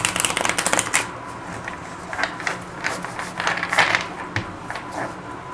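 Tarot cards are shuffled close by in quick papery riffles and flutters, repeated in short bursts throughout with no voices.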